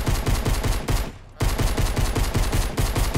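Rapid automatic gunfire from a gun in an arena shooter game, loud close bursts of evenly spaced shots broken by one brief pause of about half a second, with no talking.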